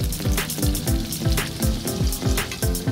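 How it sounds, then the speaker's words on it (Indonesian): Baby tilapia fish fry in plenty of hot oil, giving a steady, close, dense sizzle with a regular pulsing texture throughout. "Teknik menggoreng baby fish sama seperti menggoreng ikan, butuh minyak yang banyak dan jangan terlalu sering dibolak-balik biar ikannya nggak lengket"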